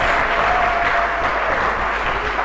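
An audience at a Ghanaian national economy briefing gives a dense, loud round of applause, continuous clapping with no pause from start to finish.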